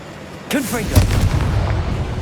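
A Confringo blasting spell goes off in Hogwarts Legacy with a loud, booming burst that rolls out and lingers as a rumbling tail, while a character shouts the incantation at the start.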